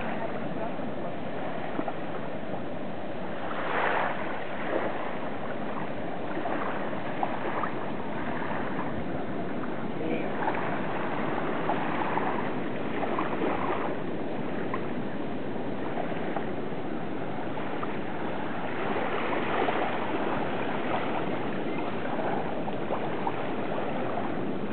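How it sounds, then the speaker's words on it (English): Gentle waves wash steadily on the beach in front of a hotel in Moorea, a soft continuous surf hiss with occasional faint splashes and muffled voices in the background. "This is the beach in front of our hotel in Moorea."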